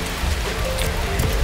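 Rain falls steadily and loudly, a dense close hiss of drops with no pauses and no voices over it.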